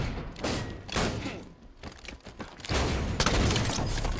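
Several sharp shotgun blasts boom in quick irregular succession during a Halo 5 Infection match, loud and close, with short gaps between the bursts and a dense cluster near the end.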